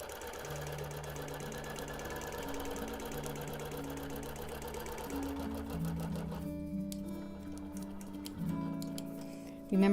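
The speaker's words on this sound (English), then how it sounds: "that's why I'm basting a little bigger distance in than I usually do" A quilting machine bastes a pieced quilt backing with a continuous, rapid mechanical stitching rattle that stays close and steady, over a low tonal background hum.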